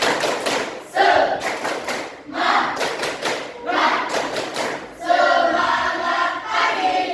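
Junior high school students perform the tepuk semangat cheer as a group, clapping loudly in tight rhythmic bursts with short pauses between phrases, filling the room.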